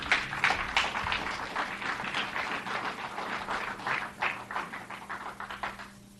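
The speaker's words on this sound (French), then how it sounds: "Est-ce qu'on peut applaudir le Dieu qui dit..." A church congregation applauds God during a French-language sermon, a fairly faint, steady patter of many hands clapping through the whole stretch, no speech over it.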